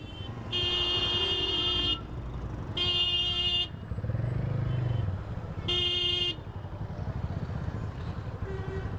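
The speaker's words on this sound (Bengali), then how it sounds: "ঢাকাতে ফার্স্ট টাইম বাইক রাইড করছি" A motorcycle rides through Dhaka traffic as car horns honk in three long, loud blasts over a steady engine and road rumble, with more traffic noise continuing between them.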